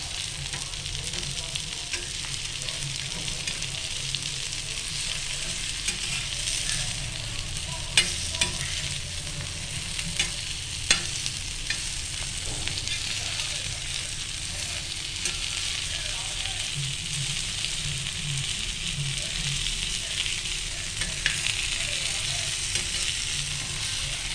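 Bangda fish fries in a pan on medium heat, a steady close sizzle with occasional sharp clicks and scrapes as the pieces are flipped, no talking.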